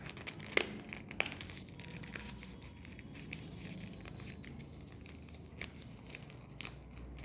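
A handmade no-glue paper birthday card being folded and its corners tucked in, giving soft, quiet crinkles and rustles with a few sharper paper snaps, with no talking.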